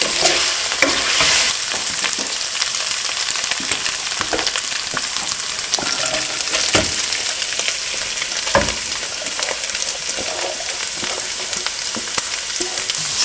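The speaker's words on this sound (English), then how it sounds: "So now I'm going to add the onions and cook them for another 2 minutes or so." Chopped onions sizzle and fry in a hot pan with meat while being stirred, a steady hiss broken by scraping and clicking spoon strokes, close and alone without talk.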